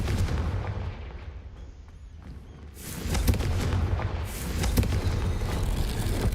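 Confringo blasting spells going off in Hogwarts Legacy: a quieter rumble gives way to heavy booming explosions, with sharp blasts standing out near the middle and toward the end.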